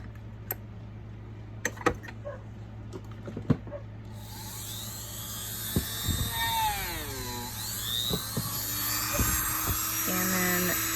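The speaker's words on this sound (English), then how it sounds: "just taking our Fabuloster polishing compound and our Dremel and going around it" A Dremel runs with polishing compound around a sterling silver twist wire ring, a high whining buzz whose pitch swoops and wavers, coming in after several faint taps and ticks.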